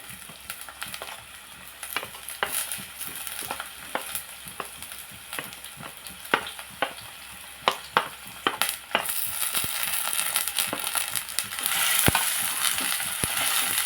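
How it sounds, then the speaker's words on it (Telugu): Chopped onions and green chillies frying in hot oil for a broad bean and tomato curry, a busy close sizzle with constant clicking spatula strokes that thickens into a louder, denser hiss toward the end; no voices. "ఆయిల్ హీట్ ఎక్కిన తర్వాత మనం ఇందులో ఉల్లిపాయ మొక్కలు పచ్చిమిరపాయ మొక్కలు వేసుకుంటున్నాము"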